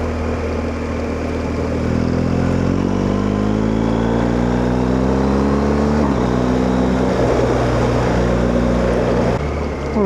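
A BMW R1250GS Rallye TE motorcycle with an Akrapovič exhaust drones loudly up close as revs climb, then burbles with brief dips and pops as the throttle eases, steady wind rush underneath and no voices.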